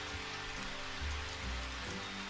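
Steady rain falls in an anime visual novel scene, a dense, even hiss of drops on surfaces that stays constant throughout with no voices.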